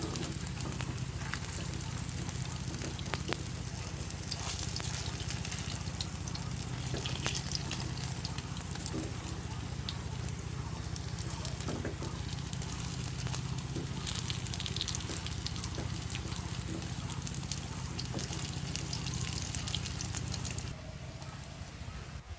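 Sago and potato fritters fry in hot oil, turned over and over as they brown, with a continuous crackling sizzle and frequent small pops that carry on steadily before easing slightly at the end.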